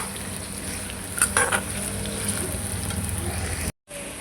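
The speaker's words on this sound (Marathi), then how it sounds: "आता मी सगळं हे भाजून घेते." Ingredients dry-roasting in a pan with a little salt, a steady close sizzle and crackle with a few sharp spatula scrapes and clinks, then a brief silent break near the end.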